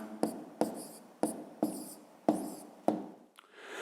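A pen or chalk writes out a math answer by hand, giving six or seven sharp scratchy strokes spaced about half a second apart, close and clear with no talk.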